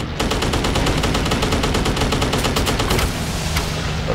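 Rapid machine gun fire from a World War II fighter plane in the video game Dogfight 1942, a loud continuous burst of tightly spaced shots that rattles for about three seconds before cutting off.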